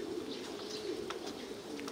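Pigeons cooing at a pigeon farm: a soft, steady stream of overlapping low coos, close and continuous, with no voices.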